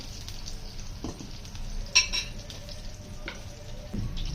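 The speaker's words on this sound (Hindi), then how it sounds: "2 चम्मच हम डालेंगे बटर।" Two spoons of frozen butter sizzle softly in a hot pan, a steady low crackle with a brief clink of utensils midway.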